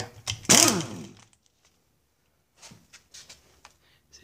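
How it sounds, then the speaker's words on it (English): An impact wrench with an extension and a 3/8 socket works rubber mounts off a Johnson 9.5 HP outboard powerhead. One short, loud rattling burst is followed by a silent pause and then scattered quieter clicks and knocks. "I have an impact wrench with an extension and a 3/8 socket. So I'm going to use it to pull off the rubber mounts."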